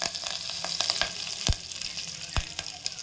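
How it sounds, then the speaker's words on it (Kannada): Curry leaves hit hot oil with split urad and chana dal in the pan, and a busy crackling sizzle follows. Sharp pops spatter through it, stirring scrapes come and go, and no one speaks. "ಕರಿಬೇವಿನ ಸೊಪ್ಪು ಹಾಕ್ಕೊಳ್ತೀನಿ."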